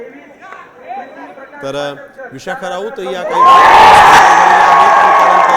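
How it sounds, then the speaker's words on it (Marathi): Shiv Sena party workers burst into loud, sustained cheering and shouting in celebration, a dense crowd roar that takes over after someone talks. "ठाकरेंच्या शिवसेनेचे कार्यकर्ते इथं जमले होते आणि त्यांनी जल्लोषाला सुरुवात केलेली आहे।"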